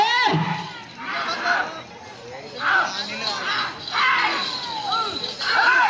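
Crowd shouting and cheering at a bull pulling contest, Nallaguntla six-teeth category, loud overlapping voices rising and falling in repeated bursts across the whole stretch.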